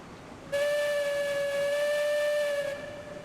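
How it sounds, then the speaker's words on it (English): Steam locomotive whistle in the railroad game Railroads Online: one loud, steady, harmonic blast lasting about two seconds, sounding alone over a faint background hiss. "Just because we can, we'll blow the whistle."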